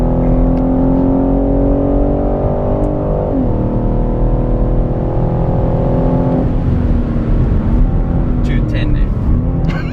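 A 2021 BMW M3 accelerates hard on a race track, a loud in-cabin engine roar climbing through the revs with a couple of quick gear changes, while people talk over it.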